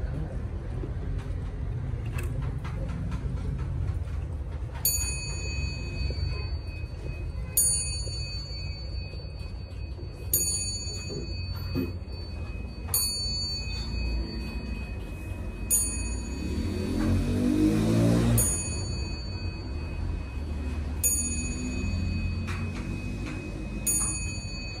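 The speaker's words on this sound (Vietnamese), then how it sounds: "Cho bác nghe tiếng chuông." A 1970 SBS German weight-driven wall clock chiming: a series of clear bell strikes spaced a few seconds apart, ringing over its steady ticking and a low room background, with a brief rushing noise partway through.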